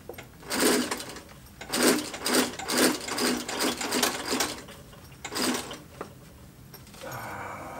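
A Singer heavy-duty sewing machine stitches a homemade bottle carrier in several distinct bursts of rapid, loud clattering, with short pauses between runs and no talking.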